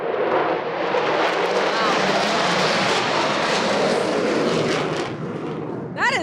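Aircraft fly low over the Daytona 500 race, a loud, close roaring rush of engine noise that holds steady for several seconds before fading, with voices talking underneath.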